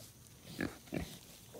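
Pigs and piglets give two short, close grunting oinks in quick succession over a quiet background.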